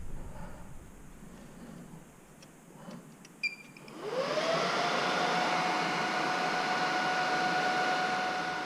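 A Dell server powers up after a PCIe storage controller swap: a short burst of clicks, then its cooling fans surge into a loud, steady high whir with a rising whine that settles into a constant drone.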